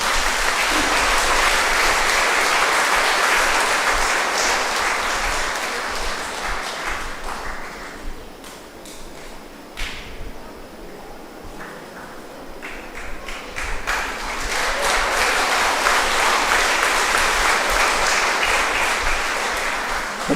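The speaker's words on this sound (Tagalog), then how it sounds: "Ba't ba kayo palakpak ng palakpak?" Congregation at a church testimony claps in sustained, loud applause that dips midway and then swells again, dense and continuous, with faint voices underneath.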